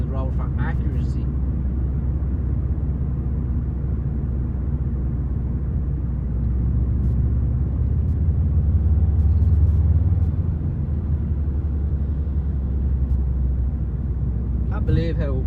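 Subaru Impreza STI WRX wagon driving along a road, a steady low engine and road rumble droning throughout under someone talking.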